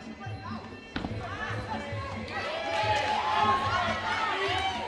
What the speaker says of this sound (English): suck in the ambience of the crowd that is shouting for Verne Prinsloo